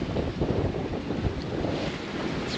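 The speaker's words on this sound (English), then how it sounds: "The wind's blowing." Steady wind rushes over a sailboat crossing the open Atlantic, with buffeting gusts on the microphone and a continuous low roar of large undulating ocean waves underneath; no voices.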